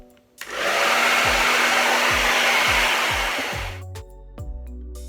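A hair dryer fitted with a diffuser blows steadily on curly hair with a warm setting, a loud continuous whoosh lasting several seconds before switching off, followed by faint clicks and handling sounds.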